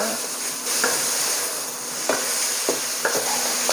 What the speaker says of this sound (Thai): พัดเนื้อหมูให้ซุกดีก่อนนะคะ